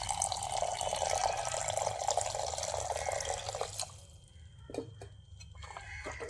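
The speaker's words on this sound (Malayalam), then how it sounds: "ഇനി നമുക്കിത് തുറന്നിട്ട് ഇതിലേക്ക് പുളിവെള്ളം ചേർത്ത് കൊടുക്കാം" Tamarind water poured into a cooking pan: a full splashing gush for about four seconds, then it tapers to scattered drips and trickles, close by and with no speech.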